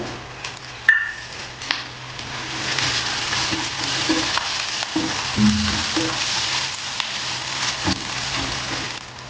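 Asafoetida and curry leaves crackling in hot oil in a pan for temple-style tamarind pulihora, a sharp pop at the start, then a sustained rain-like sizzle with occasional stirring and spatters.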